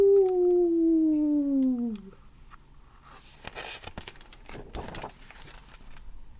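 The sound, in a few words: reader imitating a wolf howling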